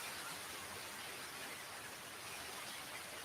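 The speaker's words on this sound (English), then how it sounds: "oh yeah, there's the rain." Rain falling outdoors at a concert, a steady broadband hiss of rainfall, even and continuous throughout, with no voices.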